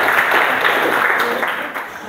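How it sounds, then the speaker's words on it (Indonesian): Classroom applause during a teaching practice session, a short burst of steady clapping from students filling the room. "kita beri tepuk tangan"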